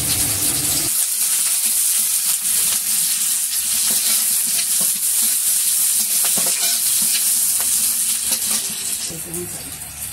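Onions and green chilies hit hot oil in a wok with a loud, sudden sizzle that settles into steady frying hiss, with occasional stirring and a voice talking faintly underneath, the sizzle fading slightly toward the end.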